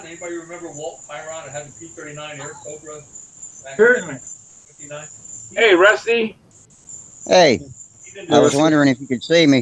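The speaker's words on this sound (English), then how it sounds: "I can hear the crickets in the background." Crickets chirp steadily at night in the background, a continuous high trill running beneath several people chatting in an online hangout.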